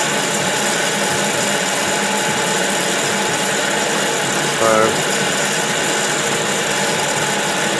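A metal lathe cuts steel for a screw-cut adapter for a wood lathe chuck. The machining is a constant, loud, broadband whir and grind, with a brief clatter near the end and one short spoken word.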